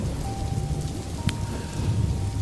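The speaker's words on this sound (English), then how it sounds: "And now, driving in the rain with Eddie Pepitone." A rain sound effect plays: steady rainfall with a low rumble of thunder, mixed with faint steady tones and a brief sharp crackle midway.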